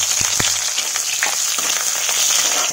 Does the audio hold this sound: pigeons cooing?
no